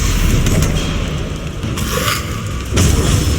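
In the video game Hogwarts Legacy, a Bombarda spell explodes with a loud, heavy boom and a rumbling, crackling burst that swells twice over a few seconds amid game noise, with no talking.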